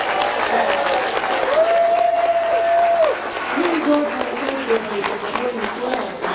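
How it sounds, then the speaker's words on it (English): Steady, loud applause from a crowd at the BotCon 1996 convention fills the whole stretch, dense clapping with a few cheers rising above it. "Let's give them a big round of applause."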